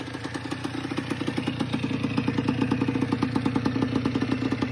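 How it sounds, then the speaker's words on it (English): A restored 1980 Yamaha IT175 dirt bike idles nearby with a loud, even, rapid two-stroke putter and a faint mechanical clatter, and no one speaks. "There's the 1980 IT175, completely restored, going to New York."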